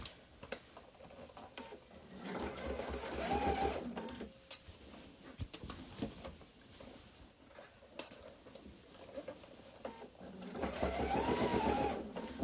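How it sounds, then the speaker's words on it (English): A sewing machine stitches binding onto a thick duffle bag, its steady mechanical chatter running in long close stretches that rise, ease off between seams, then speed up again near the end. "Sewing the binding curves has been a little challenging for me because of the thickness."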